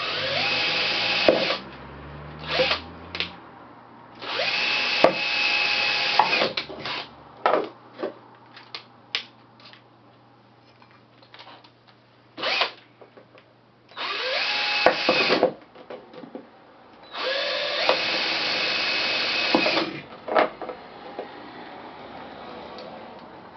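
A power drill bores drainage holes in a plastic Kelly's ice cream tub, in several bursts of high whining of varying length separated by short pauses, close and loud.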